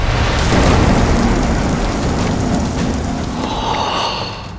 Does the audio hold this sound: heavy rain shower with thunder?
yes